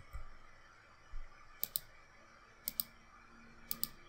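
Computer mouse clicks on keyframes in Blender, three quiet paired double-clicks spaced about a second apart, close and crisp, with faint soft thumps from handling the mouse just before them in a quiet room.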